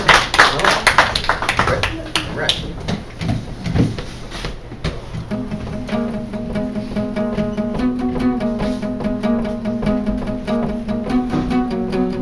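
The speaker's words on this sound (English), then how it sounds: "let's give a round of applause" Audience applause for a singing debut on a talent show stage, a burst of clapping with voices for the first few seconds that gives way to music carrying on steadily.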